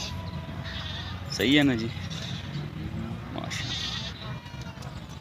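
Teddy breed goats bleat at a busy livestock market in Rawat, one loud close bleat standing out from a noisy crowd, with someone talking over the scene.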